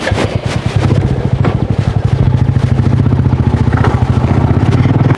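A motorcycle engine runs steadily close by, a loud throbbing, even putter that starts after a brief moment and holds to the end.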